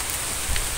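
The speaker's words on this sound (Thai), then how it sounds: "ฝนตกอย่างนี้นะครับ" Steady rain pours outdoors during the rainy season in Pattani, making a dense, even hiss close by with no other sounds standing out.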